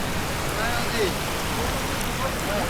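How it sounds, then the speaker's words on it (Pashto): Gentle rain falls in a park near a waterfall in Badakhshan, a soft, even hiss that holds steady throughout, close and moderately loud. "نرم نرم باران ورېږي"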